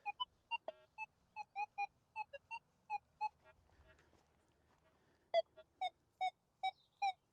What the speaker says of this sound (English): Now you're going to hear the tones.